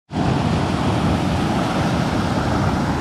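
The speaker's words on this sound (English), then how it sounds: "this is our first waterfall of the day" A small waterfall in a gorge on a woodland trail, its close, continuous broadband roar of rushing water holding steady throughout.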